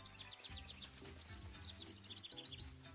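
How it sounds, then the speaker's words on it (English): Birds chirp in repeated short high tweets throughout a mountain road scene in the video game Senran Kagura Burst, set over a steady low musical backdrop. "I feel good as I listen to my footfalls on the mountain road and the chirping of the birds"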